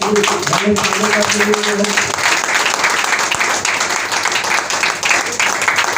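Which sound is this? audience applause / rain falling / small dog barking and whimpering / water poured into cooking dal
audience applause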